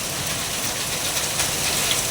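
Hailstones falling hard in Riyadh, a dense, steady broadband patter like heavy rain on hard surfaces, continuous and close throughout with no talk.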